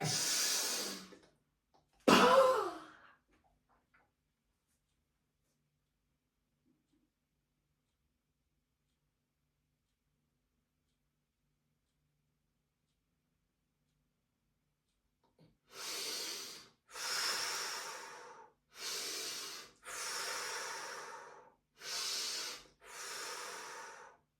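During a bodyflex exercise, a person breathes forcefully, with two sharp exhales near the start and then, after a long silence, six strong rhythmic breaths close by.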